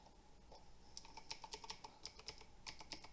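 Computer keyboard keys such as insert, home, page up, delete and end are pressed in an irregular run of light, quiet clicks, close by in an otherwise still room.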